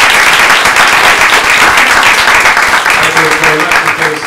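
An audience of a lecture crowd applauding in welcome for a speaker at New York University, dense steady clapping that fills the whole stretch at close, loud level, with a voice beginning to speak under it near the end.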